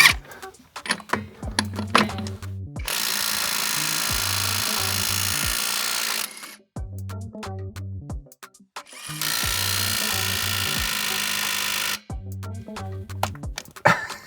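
Dnipro-M cordless impact wrench, DTW-201BC Compact or DTW-202BC Ultra, trying to loosen a nut: two long loud bursts of rapid hammering impacts, each several seconds, separated by shorter clicks and handling clatter, close and alone.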